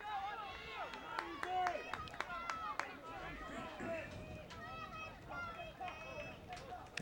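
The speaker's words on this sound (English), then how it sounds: "And he gets a nice hand from the crowd." Scattered applause from the crowd at a high school boys' soccer match, light and somewhat distant, carrying under steady commentary from a voice.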